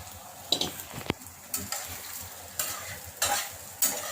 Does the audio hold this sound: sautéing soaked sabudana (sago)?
yes